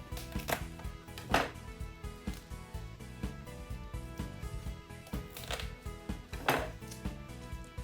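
Knife chopping garlic finely on a board, with quick irregular taps and a few sharper knocks, close and clear with no talk over it.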